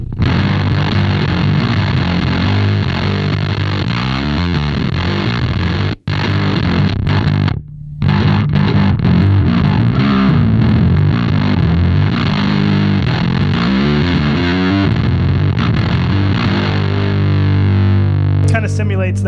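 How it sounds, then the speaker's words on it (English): Heavily distorted electric guitar played through a Big Muff-style fuzz pedal with lowered voltage, gritty and hard-clipped, continuous strumming with a brief dropout partway through. "when you pull back on the volts, it's a lot more like a hard clip type of sound"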